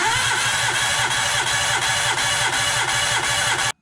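A Suzuki Alto engine cranks over on the starter with the plugs out for a compression test, a steady rhythmic chugging of even compression pulses running loud and close for several seconds before stopping abruptly.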